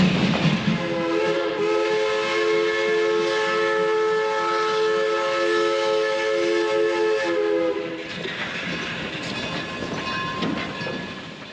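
Steam locomotive 482 on the Durango & Silverton railroad in Colorado sounds a long, loud, steady chime whistle for about eight seconds, then it cuts off, leaving hissing steam and mechanical clanking close by.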